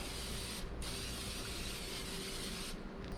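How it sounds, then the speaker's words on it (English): Cooking spray hisses steadily inside a Lodge Dutch oven in two close, continuous bursts separated by short pauses, with no talking over it. "And then I spray the whole thing."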